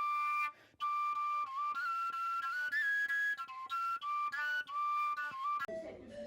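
A handmade Estonian wooden or bark whistle or flute plays a lively, continuous melody of clear, bright sustained notes with quick ornamental turns, loud and close, ending in a brief noisy burst.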